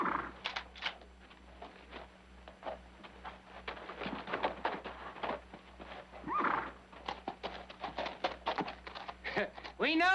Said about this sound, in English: Now you get on your horse and ride out.